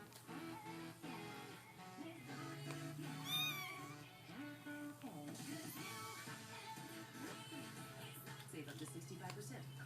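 A kitten meows indoors in short high cries scattered through the span, mixed with steady background sound and a person talking.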